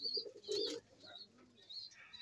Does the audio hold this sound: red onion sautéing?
no